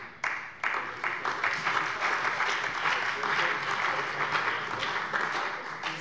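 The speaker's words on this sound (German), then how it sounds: "das ist auch ein Applaus wert." Applause fills a parliament plenary chamber, dense and continuous from a sharp start to the end, with many hands clapping at moderate distance.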